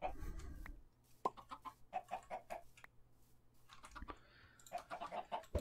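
Minecraft chickens cluck in short repeated bursts, several separate clucks spread through the stretch, fairly close and moderately loud, with no talking over them.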